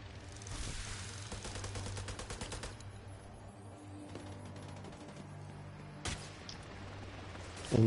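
Sniper and automatic gunfire in a multiplayer shooter video game, with repeated shots crackling steadily throughout over a dense battle din, plus a sharper louder report near the end.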